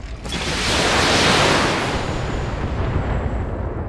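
A heavy roar of mech weapons firing in the BattleTech video game: one big burst that swells to a loud peak, then rumbles and fades slowly into a long, noisy tail.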